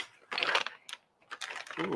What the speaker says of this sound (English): While she's typing that in